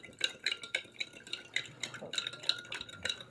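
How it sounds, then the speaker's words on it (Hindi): A spoon stirs sugar into milk in a glass, giving repeated light metallic clinks and scrapes in a quick, uneven rhythm, close and fairly quiet. "चम्मच की मदद से इसको थोड़ा सा मिक्स कर लेंगे"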